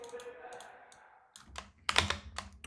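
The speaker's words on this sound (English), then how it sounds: "So I'm gonna be typing a good amount." A short hum fades out, then a few close keyboard clicks patter irregularly in quick taps.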